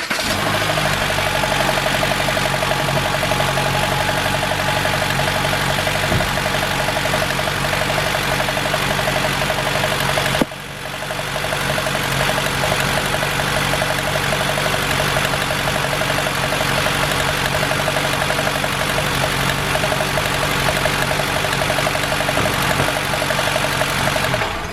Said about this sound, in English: while somebody is cranking the engine